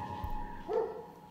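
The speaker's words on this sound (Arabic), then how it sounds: "هو صوت الكلب فصل الموقف" A single short dog bark sounds at a middle distance over a low, steady background hum.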